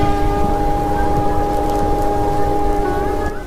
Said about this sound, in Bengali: এরপর ট্রেনটি দীর্ঘ হুইসেল দিয়ে বনগা স্টেশন থেকে রওনা দিল।